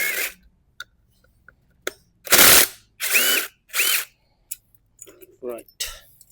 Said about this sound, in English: first of all I'm going to remove these two screws